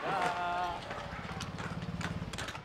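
Horses carrying library books walk along, their hooves clip-clopping in a quick, even rhythm that builds in the second half, after a brief voice at the start.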